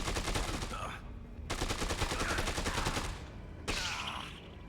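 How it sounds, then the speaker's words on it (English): Rapid automatic gunfire from Dead Rising 2 comes in three close, loud bursts of quick repeated shots with short pauses between them. A voice briefly speaks over the shooting. "Stop shooting me."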